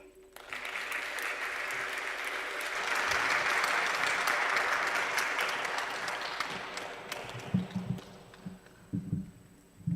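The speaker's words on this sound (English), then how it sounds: "a very, very big round of applause for all our speakers on stage" Audience applause for the speakers on stage at a university campus dialogue, clapping building to a sustained peak and then thinning out into scattered claps and crowd noise toward the end.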